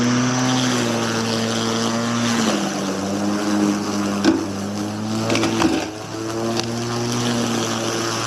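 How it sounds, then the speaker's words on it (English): An electric lawn mower cuts unruly grass outdoors with a steady motor hum that changes pitch slightly as the load shifts, close and continuous, with a few thuds and rustles. "I'm a big fan of this electric mower."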